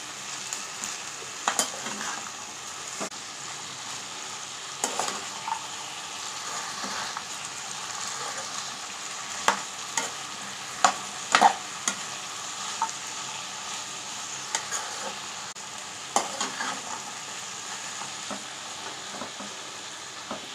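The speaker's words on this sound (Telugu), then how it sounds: "ఈ నల్లేరు కాడలని మూత పెట్టుకొని ఒక 10 నిమిషాలు సిమ్లో ఫ్రై చేసుకుందామండి" Nalleru (veld grape) stalks frying in a pan, a continuous close sizzle broken by repeated sharp clicks and scrapes of stirring.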